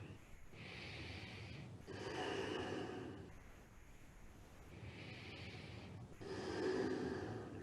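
Slow, deep breaths during Kundalini yoga practice, with steady rhythmic inhales and exhales, close and airy, repeating about every two seconds.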